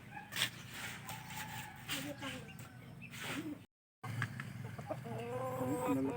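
Chickens cluck close by while people talk over them, the clucking continuing through a brief dropout in the sound.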